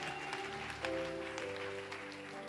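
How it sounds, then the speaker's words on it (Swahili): A church congregation at a pastor's service gives faint, scattered applause for a couple of seconds, with soft sustained musical tones underneath. "Hiyo tuipigie makofi."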